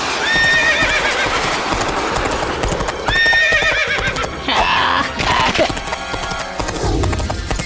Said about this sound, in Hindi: अरे ये घोड़े आसमान में कैसे दौड़ रहे हैं?